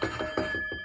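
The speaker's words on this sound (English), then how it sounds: "let's ding the bell." A small bell dinged in celebration, giving a quick series of bright metallic rings, each decaying and overlapping the next, moderately loud and close.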